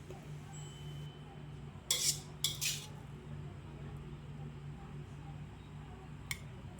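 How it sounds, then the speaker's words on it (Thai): Stir-fried glass noodles with cabbage being served onto a plate: a few soft utensil clinks and scrapes against the dish, close but quiet, over a low steady background hum. "ตักใส่จานพร้อมเสิร์ฟ"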